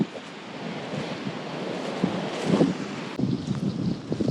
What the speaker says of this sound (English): As you can hear, it's pretty windy today.